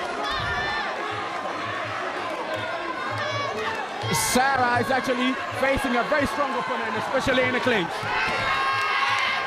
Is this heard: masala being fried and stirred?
no